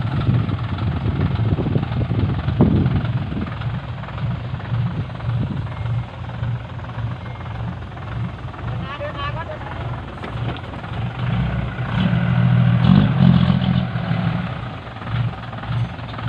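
Heavy diesel engines of a tractor and a stuck Fuso dump truck rumble and rev in a low, steady drone, with louder surges near the end as the tractor pushes from behind; people talk faintly underneath.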